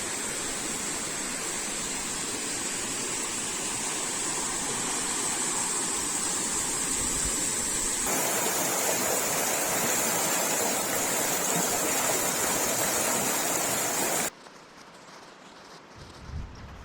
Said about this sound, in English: I really like being able to hear the river at night.